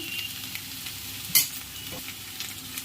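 Prawns sizzle quietly in a home kitchen pan with chili powder stirred through them, a steady close frying hiss with one sharp scrape of the spoon partway through.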